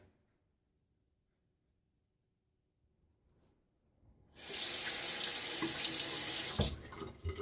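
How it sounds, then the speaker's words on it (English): Tap water rushes loudly over a Wolfman WR1 open-comb safety razor, rinsing away shaving lather; near-silence first, then a steady, close splash for about two seconds before it cuts off. "Lather rinses easily from the razor, so it's not too thick."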